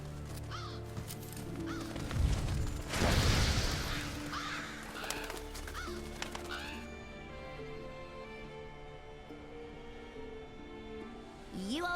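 Revoltures, black scavenger birds in Monster Hunter World Iceborne, caw in a game scene, with a loud boom-like burst early on and a steady ambient bed underneath.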